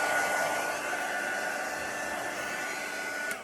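A heat gun or hair-dryer-style heat tool blows steadily for several seconds, warming vinyl lettering to activate the glue on its backing; a continuous close whooshing airflow with a faint whine, without speech.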